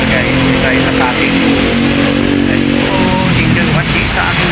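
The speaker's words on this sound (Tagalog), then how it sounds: "Papagones ng ating motor guys, and papakarwas tayo." Motorcycle engine running loudly close by with mid-pitched revving, constant and dense throughout while a voice speaks underneath.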